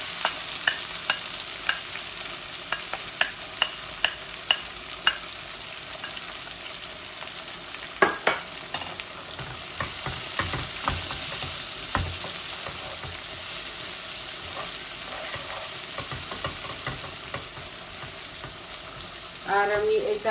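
Onion sizzles in a pan over browned garlic, a steady frying hiss throughout with frequent light spatula taps and scrapes, a few sharper knocks midway and a brief louder clatter at the end.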